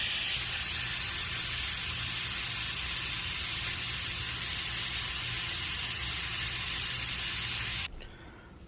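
Smoked ribeye steaks flipped in butter sear in a pan, a loud continuous sizzling hiss up close for about eight seconds that stops abruptly.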